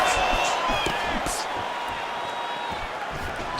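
Arena crowd at a UFC bout between Israel Adesanya and Kevin Holland reacting to a landed strike, a dense sustained roar of voices with rising oohs and whoops, steady throughout with commentary talk running over it.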